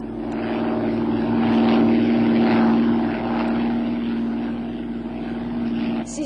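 A propeller airplane flies steadily and banks gently into a turn over a lake. The engine drones evenly throughout, loud and close, with no talk.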